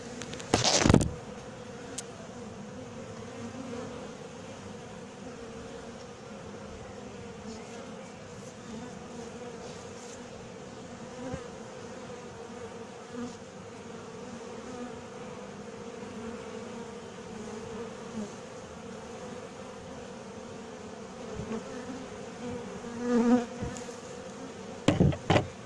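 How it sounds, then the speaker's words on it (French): Honeybees pouring out of an opened horizontal hive, a dense, steady swarm drone holding close and loud throughout, with a few knocks and handling thumps at the start and end and no talking. "je me suis fait piquer par une abeille qui est sortie à fond de la ruche"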